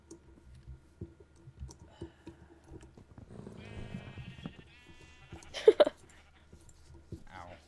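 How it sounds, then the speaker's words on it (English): Sheep bleat in a survival video game, a short burst of bleats near the middle over steady clicking and game sounds, with people talking across the clip. "I'm killing sheep."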